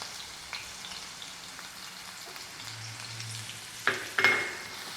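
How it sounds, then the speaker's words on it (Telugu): Onions and green chillies fry lightly in oil with a quiet, steady sizzle, broken near the end by a couple of sharp spoon-against-pan scrapes. "ఇవి కొంచెం లైట్గా మగ్గాలన్నమాట ఆయిల్లో"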